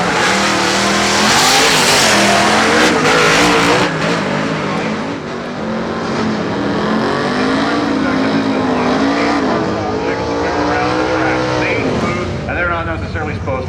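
A shoebox Chevy drag car launches down the Woodburn Dragstrip, its engine roaring loud and close with rising, wavering revs throughout, while a voice talks over the noise.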